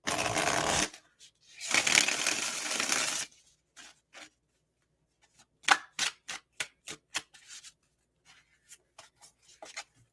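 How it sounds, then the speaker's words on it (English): Tarot cards riffled in two long, loud bursts, followed by a string of quick, crisp slaps and taps as the deck is squared and handled. "this will be the last shuffle because y'all know how I get"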